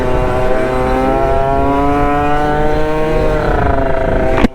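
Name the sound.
Aprilia SR50 scooter with Malossi RC1 engine revving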